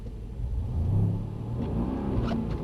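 A Mercedes-AMG car accelerates hard on the Brooklands driving-experience track, its engine rising in a moderately loud, rumbling rev that builds and holds over a couple of seconds, with no speech.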